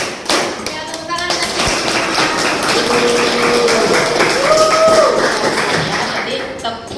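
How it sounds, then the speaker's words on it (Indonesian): A classroom of children claps hands together, a dense ragged patter of close claps running throughout, with some voices rising over it. "Ya, tepuk tangan."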